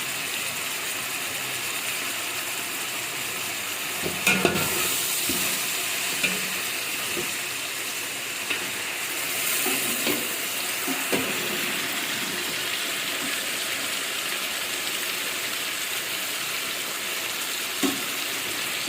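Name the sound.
meat pieces frying and being stirred in spiced masala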